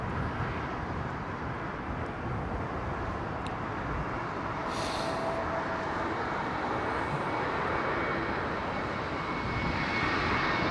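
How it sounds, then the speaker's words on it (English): Aircraft arriving on runway 27L at London Heathrow Airport, a loud continuous engine roar passing overhead that stays broad and steady throughout. "Let's give this aircraft the Eileen nose art just for this one specific operation"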